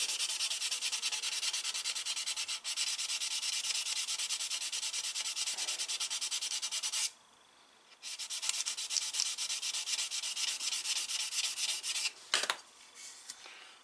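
Sanding on a Volkswagen Beetle body panel with a finer grit, a continuous close rasping hiss that breaks off briefly midway, then resumes with a few sharper scrapes near the end.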